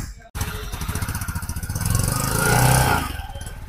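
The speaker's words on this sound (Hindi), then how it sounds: "मैं आपको एक बार टीवीएस जुपिटर की साउंड सुना देता हूँ" A TVS Jupiter 110 scooter engine runs up close with a pulsing, thumpy exhaust beat that swells as the throttle opens briefly, then settles back.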